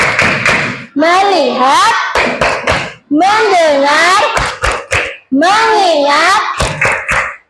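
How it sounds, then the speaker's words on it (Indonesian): A class of young schoolchildren does the rhythmic focus-clapping routine, tepuk fokus, with loud claps set between chanted words spoken in unison, close and lively. "Coba semuanya pada lemas kita tepuk fokus terlebih dahulu"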